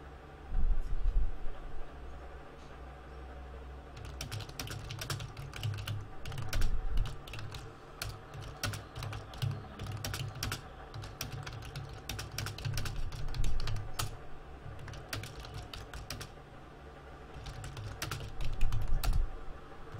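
Fast, steady typing on a computer keyboard, a dense run of close clicks and key taps continuing throughout with no voices.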